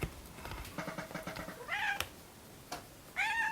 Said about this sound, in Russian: Кот чувствует мясо